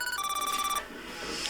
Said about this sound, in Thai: ปิดเสียงโทรศัพท์ด้วยเวลาอยู่หน้าเซต